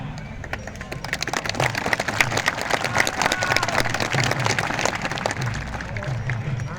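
Rally crowd at an old-pension political gathering in Srinagar applauding steadily throughout, dense clapping with some cheering, moderately loud and continuous with a voice faintly underneath.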